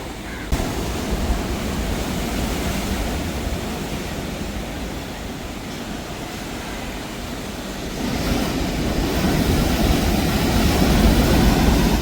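A low airplane roar builds overhead in Kerala and grows louder toward the end, blending with a steady wash of noise.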